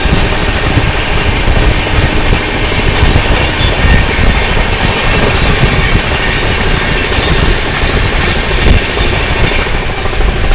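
Duronto Express 22209 running at speed on the Mumbai Central to Nizamuddin route, a loud, steady, close rumble of wheels on rail with continuous clickety-clack throughout and no voices.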